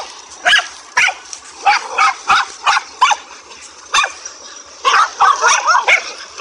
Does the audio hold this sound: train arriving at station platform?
no